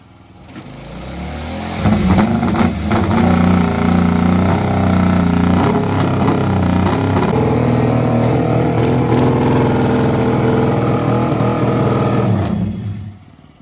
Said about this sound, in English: trying to start the motorcycle